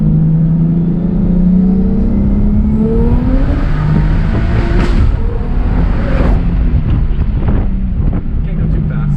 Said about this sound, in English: I can actually no lift shift this car, and it makes it feel incredibly fast.